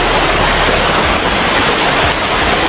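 River water rushes steadily in a dense, broadband wash, loud and close, with no voices over it.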